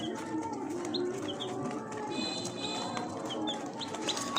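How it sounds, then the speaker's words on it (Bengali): Dense chorus of broiler chicks chirping continuously in a cage, with scattered high peeps over a steady low murmur of clucking fowl nearby. "এগুলো মূলত ফার্মির বাচ্চা"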